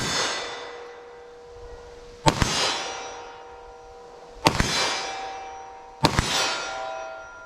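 Three sharp shots from a .40 Smith & Wesson pistol fired at 25 yards, evenly spaced about two seconds apart, each followed by a long metallic ringing that fades before the next.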